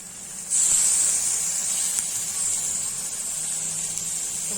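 Tomatoes tipped into a hot pan for a tomato bhaji, setting off a sudden loud hiss that settles into a steady, slightly fading sizzle.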